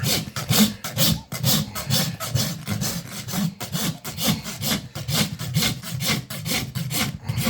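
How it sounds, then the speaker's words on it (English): A farrier's rasp files a horse's dorsal hoof wall in steady, rhythmic rough strokes, loud and close, continuing without a break. "we're just rasping through that mark so we don't over rasp the dorsal hoof wall"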